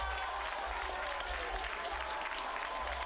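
Spectators at a DMTK versus Vác football match cheer and applaud after a goal makes it 2-0, a steady, wash-like burst of clapping and crowd noise heard from a distance.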